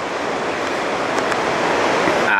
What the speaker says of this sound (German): Getöse von dem nächsten Wasserfall